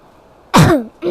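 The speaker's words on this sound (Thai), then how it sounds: "พอดีผมไอแล้วก็เป็นจาม" A man gives a single loud, close cough that sounds like a throat-clearing, followed by the start of another short burst.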